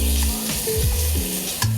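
Diced chicken, salted and peppered, sears in a cast iron Dutch oven, giving a steady close sizzle with a few brief stirring scrapes and clinks, with music-like tonal bands underneath.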